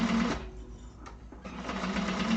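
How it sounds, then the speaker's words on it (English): An industrial sewing machine stitches through layers of cotton, running loud and close in a steady rapid whir, briefly pausing midway before resuming. "The joys of an industrial machine and sewing with cottons"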